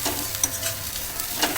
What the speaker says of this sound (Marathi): कांदा चांगला भाजायचा आहे आपण